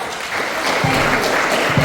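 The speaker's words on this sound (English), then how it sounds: "I think that deserves another round of applause" An audience applauds a speaker at a foundation event, a steady wash of many hands clapping that fills the whole stretch at even loudness.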